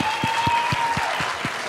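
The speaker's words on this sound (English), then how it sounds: "Could you please give a round of applause for all our finalists here?" Loud, dense applause fills the hall for the finalists of the Vysya Crown Karnataka 2025 pageant, a continuous wash of many clapping hands with a steady low thump running under it, and a faint tone holding in the background.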